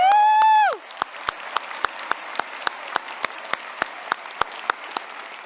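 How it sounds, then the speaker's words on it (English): Audience applause for graduates at a McMaster University convocation: after a short sustained tone fades, sparse scattered claps ring out in a large hall, fairly faint and irregular. "Let's give another round of applause for our graduates."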